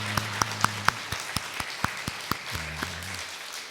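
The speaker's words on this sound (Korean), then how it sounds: "우리 모두 환영하는 박수" A church congregation at a Sunday worship service gives a short welcoming round of applause, heard as a series of sharp, spaced claps over a soft murmur, with an organ or keyboard tone holding underneath.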